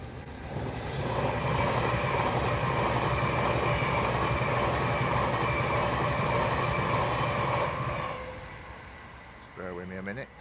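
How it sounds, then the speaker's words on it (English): A Pendolino high-speed train roars past close by for about eight seconds, a loud sustained rush of wheels and air with a steady hum, then fades away, followed by a brief clatter near the end. "Just let the pendolino go through first."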